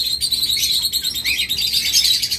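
Caged pet birds offered for sale as a pair chirp in quick, bright, overlapping tweets, close and continuous throughout with no talking.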